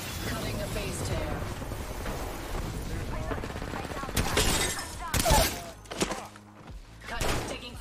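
Video game gunfire rattles in rapid volleys with crashing impacts, growing louder and more chaotic toward the end, while a voice speaks underneath.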